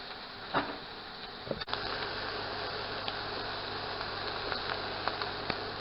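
Steak searing to medium rare in a hot pan gives a steady, dense hiss and crackle that runs throughout, with a few brief pops and one soft knock near the start.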